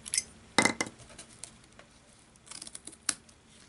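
Scissors trim burlap ribbon on a stamped card craft, with a couple of close, crisp snips and a few lighter clicks between them in a quiet room.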